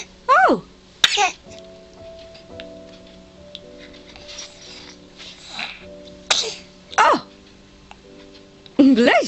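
A baby gives a series of short, sharp sneezes, about six spread irregularly, loud and close, between faint tonal background sounds, with an adult voice briefly heard.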